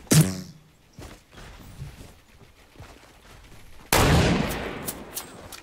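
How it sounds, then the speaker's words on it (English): Gunfire in the battle royale video game Fortnite: a sharp shot at the start, scattered faint hits and voices, then a loud sustained burst of rapid shooting and crackling in the last seconds. "I'm being shot now from somewhere else."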